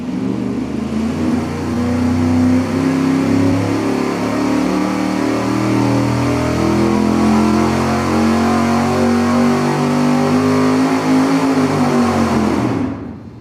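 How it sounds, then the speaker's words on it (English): 383 V8 engine on a dynamometer pull at 300 RPM per second, a loud, close roar climbing steadily in pitch for about eleven seconds, then cutting off abruptly, with no talking. "we're going to do a regular straightforward dyno pull as we always do at an acceleration of 300 RPM per second"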